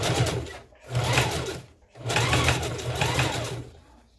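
A sewing machine stitches a ponytail hairpiece in loud, steady bursts, pausing twice briefly as the fabric is lifted and repositioned, then running on again close up.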